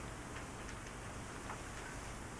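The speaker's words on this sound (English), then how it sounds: "It's beginning to rain now" Steady soft rain falling, a faint continuous hiss with light scattered drops, heard alone and evenly throughout.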